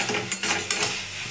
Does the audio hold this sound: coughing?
no